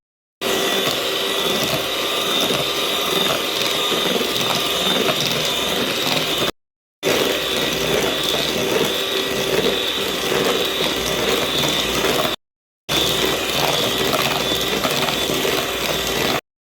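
An electric home mixer whirs steadily as it beats vanilla cake batter while oil is poured in, a loud continuous motor drone broken by two brief pauses.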